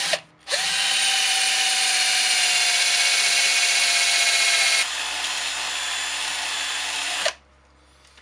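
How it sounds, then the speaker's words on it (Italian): An electric drill with a 6 mm bit bores into a cartridge case, a loud steady whine that starts abruptly, drops slightly in pitch partway through, then cuts off near the end. "Quindi ora abbiamo messo la punta da 6."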